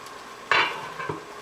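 A flat spoon scrapes and scoops through thick, sticky sweet chili sauce in a pot, one wet scrape followed by a softer second one, close and brief.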